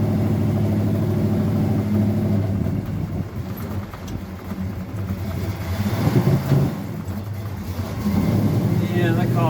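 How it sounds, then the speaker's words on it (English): Uneven engine rumble from a vehicle fitted with a rebuilt 750 carburetor running rough, surging and dipping near the microphone, with people talking over it. "There's something wrong with that carb."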